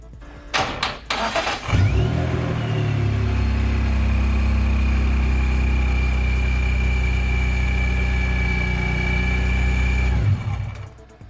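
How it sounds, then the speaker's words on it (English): A BMW E46 with the M54 straight-six fires up after a few cranking bursts and settles into a steady, loud, even idle close by, humming on with no talk, then cuts off near the end. "Start the car and then check the oil again."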